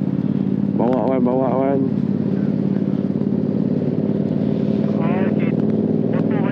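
Motorcycles ride through busy traffic on the road back to Pattaya, with a loud, constant engine drone close by while riders talk over it in short bursts.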